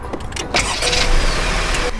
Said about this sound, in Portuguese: vou ligar o carro aqui